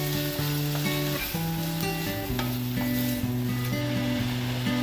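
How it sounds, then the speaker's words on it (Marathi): Finely chopped onions sauté over medium heat for a soya kheema, giving a steady, close sizzle that continues throughout over a background of tonal sound. "मध्यम आचेवर आपण कांदा असा परतून घ्यायचा"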